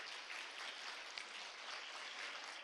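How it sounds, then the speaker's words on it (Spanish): Audience applause for a university panel at a lecture hall, a steady, faint wash of clapping from many hands lasting throughout. "Por favor, un aplauso para nuestros panelistas."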